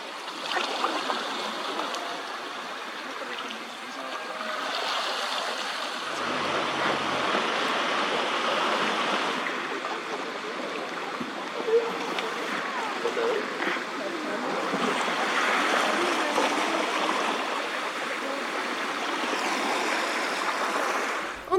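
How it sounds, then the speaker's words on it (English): A waterfall spills onto the back of a gravel beach in South Georgia with a steady rushing splash, while a voice talks over the water for much of the time. "The waterfall, that drops to the back of a gravel beach before disappearing with no pool or outflow"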